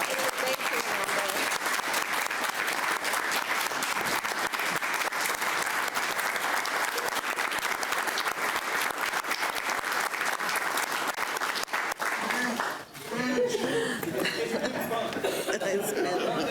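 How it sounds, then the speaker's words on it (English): Sustained applause from the audience at a city council meeting, with steady dense clapping mixed with chatter and light laughter for about thirteen seconds, then a voice speaking as it dies down. "So let's give him a round of applause."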